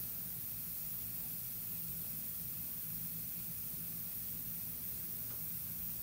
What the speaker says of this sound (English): And that's my compressor.